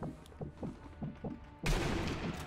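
Gunfire in Sniper Elite V2 co-op play: a few soft muffled thuds, then a sudden loud burst of shots and crackling fire in the last second, close and harsh.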